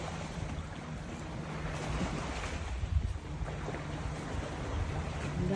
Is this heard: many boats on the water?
yes